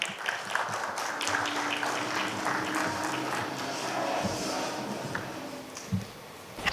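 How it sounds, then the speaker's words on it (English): A conference audience gives a sustained round of applause for a Salesforce speaker, with dense, steady clapping that fills the room throughout. "Let's have a huge round of applause for Ms. Sonalika Sarna."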